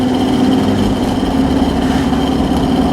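A Land Rover Discovery TD5 diesel engine runs steadily at about 2000 RPM under light throttle, a continuous loud droning rumble with no break.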